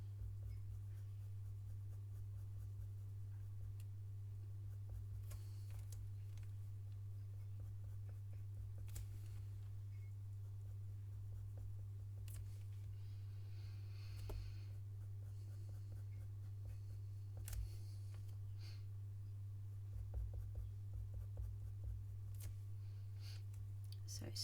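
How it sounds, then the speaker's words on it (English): Light, short pencil strokes on paper while drawing the nose of a fox portrait: faint, scattered scratchy ticks over a steady low electrical hum, with a person talking quietly at times. "Just very lightly and very short pencil strokes."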